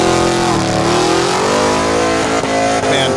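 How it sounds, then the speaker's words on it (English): A car does a burnout for distance, the engine revving hard and holding a loud, sustained high roar with rising and falling pitch, tire squeal mixed in, close and continuous. "time to wrap up the day with something we're actually good at. Burnouts for distance."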